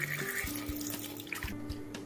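Water pouring from a tap into a pot of moong dal with beans, carrots and sweet potato, a steady running splash with faint clinks, alone and fairly quiet.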